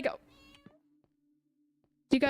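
Cats from Minecraft give short meows, a thin tonal mew trailing off quietly between bursts of a person talking.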